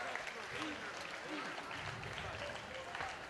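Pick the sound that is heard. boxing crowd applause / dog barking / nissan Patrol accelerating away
boxing crowd applause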